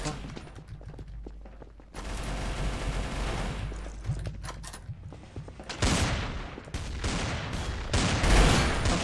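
Video game gunfire rattles in dense automatic bursts, loud and close, across the whole stretch, with short pauses and heavier volleys near the end, while players talk over it.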